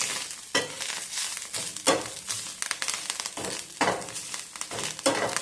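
Drumstick and potato curry with coriander gets sautéed in a pan, with repeated scraping stir strokes roughly every second over a soft continuous sizzle, close up and without talk.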